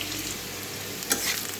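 Mixed vegetables fry in a pan at home, giving a continuous near sizzle with soft stirring rustles and one sharper clink partway through, no voices.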